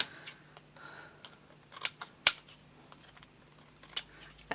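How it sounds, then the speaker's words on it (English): Scissors trim card for a vintage-style handmade card, giving several crisp, close snips spaced irregularly, with one sharp louder cut partway through and quiet moments between. "Right, let's trim that down."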